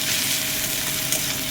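Ginger-garlic paste frying with onions in a pan for egg tarka gives a steady, close hiss of oil that barely changes across the moment, with no voices.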